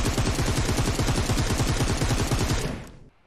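Rapid automatic gunfire in a battle royale video game, one close, sustained burst of evenly spaced shots that cuts off abruptly near the end, leaving near-silence.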